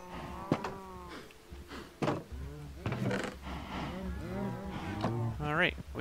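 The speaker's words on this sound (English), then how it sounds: "we got a bunch of cows now" Cows moo several times in the Minecraft video game, a series of low, drawn-out in-game bellows with a few shorter calls, fairly close and clear with no talk over them.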